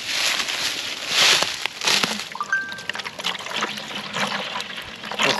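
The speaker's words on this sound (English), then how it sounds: "and then pour some on that dead tree" Liquid bait is poured out onto a dead tree outdoors, a steady splashing and gurgling pour with a few irregular knocks and sloshes, fairly close.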